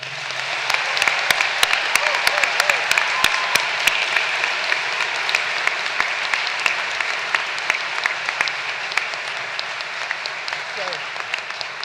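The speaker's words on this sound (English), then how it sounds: "Please join me in a round of applause" Steady, sustained applause from a large commencement audience, dense and even throughout with no speech over it.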